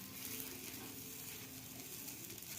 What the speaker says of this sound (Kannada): ದೋಸೆ ಹಿಟ್ಟು ಹಾಕಿ ಈ ಥರ ಸ್ವಲ್ಪ ತೆಳ್ಳಗೆ ಮಾಡೋದು, ಸಾವಕಾಶ ರೌಂಡಾಗಿ ಮಾಡಿದ್ಮೇಲೆ